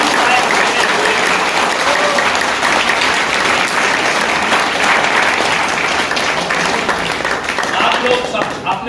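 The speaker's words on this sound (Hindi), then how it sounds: "इसलिए खुद के लिए एक जोरदार तालियां" Loud, sustained applause from a seminar audience at a Hindi motivational success talk, dense and steady for the whole stretch with a few voices mixed into the crowd.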